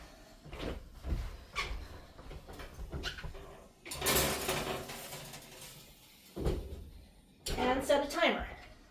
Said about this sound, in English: all that's left to do is slide them into the oven.